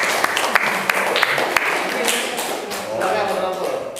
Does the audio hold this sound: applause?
yes